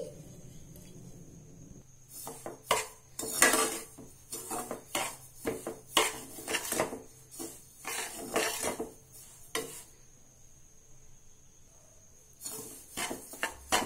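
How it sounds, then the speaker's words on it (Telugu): Semolina dry-roasting in a pan on low flame, stirred in repeated bursts of scraping and clinking of a utensil against the pan, with quiet pauses between. "దీన్ని లో ఫ్లేమ్లో మాడకుండా వేయించుకోవాలి"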